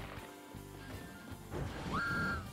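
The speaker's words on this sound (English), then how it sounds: "What was that whistle?" A rising whistle sounds in the Monster Boy and the Cursed Kingdom video game, a short upward-sliding tone over busy game effects and low rumbling.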